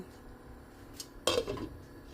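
Leftover vegetables (eggplant, okra, string beans) dropped into a pot of beef sinigang, a brief clatter and splash of pieces landing in the pot with a faint knock of utensils, alone and fairly close.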